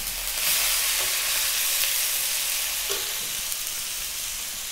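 Peppers, tomato, onion, celery, carrot, chili and peas sizzle loudly in a hot pan as they are stirred, a dense, steady frying hiss with a few soft scrapes.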